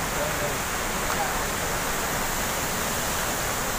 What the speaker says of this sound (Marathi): मित्रांनो बघा कसं काय धबधबा आहे हे बघा.